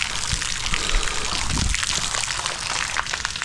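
Water pours and splashes steadily at a cold spring during an outdoor bath, a continuous close gushing trickle with no talk.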